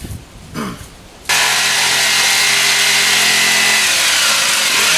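A power saw cuts an arch into a wooden board, a loud, steady, whining buzz that starts abruptly after a short quieter lead-in and runs on without a break.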